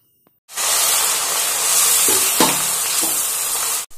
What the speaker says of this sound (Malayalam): ആ എണ്ണ ഏകദേശം നന്നായി ചൂടായി വന്നിട്ടുണ്ട്. ഇനി അതിലേക്ക് കോളിഫ്ലവർ കുറച്ച് നമുക്ക് ഇട്ട് കൊടുക്കാം